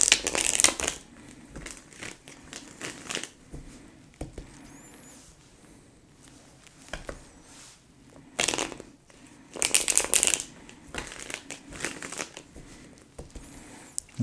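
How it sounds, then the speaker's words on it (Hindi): Tarot cards are shuffled close up in bursts of papery riffling and rustling, separated by quieter pauses with soft handling noises. "Let me shuffle, guys."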